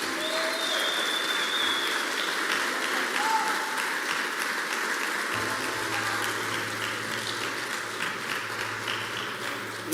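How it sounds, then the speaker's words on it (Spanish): Loud, sustained applause from a church congregation fills the whole stretch, with a steady low hum entering partway through. "Que alguien le dé un fuerte aplauso."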